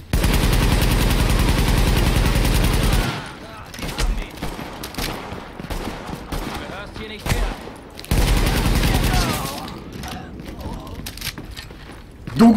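Loud gunfire from The Division video game, with sustained automatic bursts opening the scene and returning later, separated by quieter stretches with scattered shots and game ambience.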